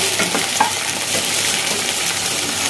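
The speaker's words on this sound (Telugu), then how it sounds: "బెండకాయలను అయితే కొంచెం కట్ చేసేసి ఇలా ఆయిల్లో ఫ్రై చేసేసుకుంటున్నాను" Cut okra (lady's finger) frying in hot oil, a steady dense sizzle with faint stirring scrapes running the whole time, close and fairly loud.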